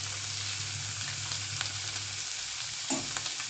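Mixed vegetables sautéing in a pan for a kurma, a soft steady sizzle with a low hum under it and a brief scrape of stirring near the end.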